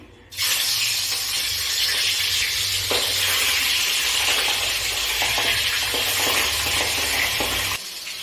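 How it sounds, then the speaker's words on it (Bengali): Pabda fish fry in hot mustard oil in a kadai, a loud, dense, continuous sizzle and crackle with occasional stirring scrapes, steady from start to finish and cutting off abruptly near the end. "মাছটা ভাজা হচ্ছে"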